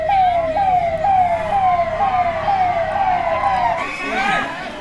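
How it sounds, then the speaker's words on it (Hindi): A forest department vehicle's siren wails in repeated rising-falling sweeps, loud and close, near a village where a herd of wild elephants has come into the jungle; the siren cuts off near the end as other noise takes over. "ये फॉरेस्ट की गाड़ी"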